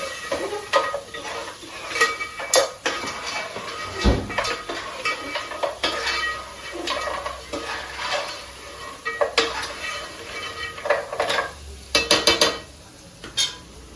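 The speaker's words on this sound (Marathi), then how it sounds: "कांदे टाकून कांगडे परतून घेते" Crab pieces sautéed with onions in a pan for an Aagri-style crab fry, with frequent metal spatula scrapes and clanks over a light sizzle, uneven stirring rhythm close by, no speech.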